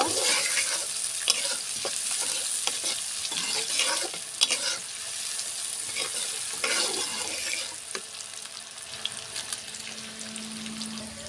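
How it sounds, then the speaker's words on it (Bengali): Onion and sliced green chili sizzling in oil in a pan as they are stirred, a constant close frying hiss broken by scraping and clinks from the spatula, with no talk. "সুন্দর করে নাড়াচাড়া করে পেঁয়াজটা একটু ভাজা ভাজা করে নেব।"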